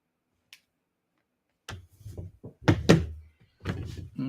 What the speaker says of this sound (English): Sounds like someone's hammering something just outside my window